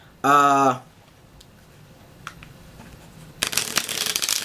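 A brief tonal beep, then quiet, then a rapid crisp riffle of Red Dead Redemption and Illusionist Arcane playing cards being shuffled close by, building to a dense flutter at the end.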